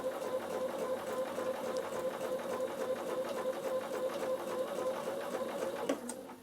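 Bernina sewing machine running a steady, even stitch close to the fabric edge, a continuous close whirring hum with rapid needle clatter that eases off near the end.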